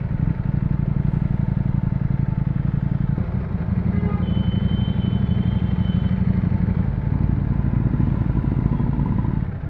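Ducati Panigale V4 motorcycle ridden slowly through heavy traffic, a steady close engine drone with low clattering rumble continuing throughout, no voices.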